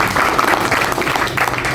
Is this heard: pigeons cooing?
no